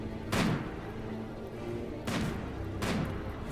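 Doomsday rocket launchers firing in a RimWorld battle, three heavy broadband blasts with booming low ends, the first near 0.3 s and two more close together later, over a steady rumbling game background.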